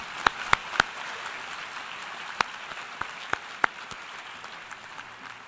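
An audience at the UN applauding, steady clapping with a few sharp louder claps standing out, moderately distant.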